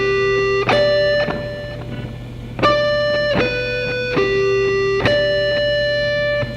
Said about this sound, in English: So the last four notes of the lick I'm playing with down up, sort of alternate picking, so it sounds like this.